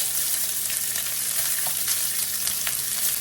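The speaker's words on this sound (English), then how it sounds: "So we're going to throw in our cooled rice and literally fry it up." Cooled rice fries in hot, smoking olive oil with a steady, bright sizzle and light crackle, continuous and close, with no talking.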